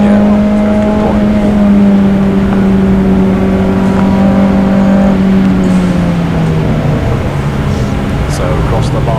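Puma Cup race cars lapping Donington Park, a loud sustained engine drone shifting pitch as they run, with a commentator talking throughout.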